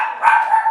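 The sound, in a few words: dogs barking at someone coming up the path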